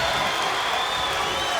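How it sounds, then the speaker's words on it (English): A wrestling arena crowd at WCW Monday Nitro chanting Luger, a dense, steady roar of many voices held loud and unbroken throughout. "Chanting Luger!"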